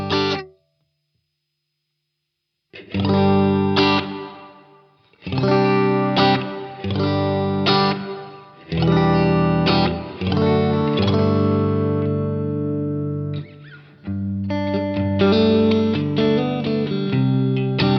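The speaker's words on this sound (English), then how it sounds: "very basic room reverb." Electric guitar played through a Cornerstone Nucleo pedal set to a basic room reverb, strummed chords and ringing notes in several phrases with short gaps and a soft reverberant tail, loud and alone without speech.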